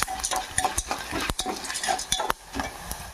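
Coriander seeds dry-roasting in a pan for curry leaf spice powder, stirred with a spoon that scrapes and clinks against the metal over a soft, crackling sizzle. The stirring is close and irregular, with no talking.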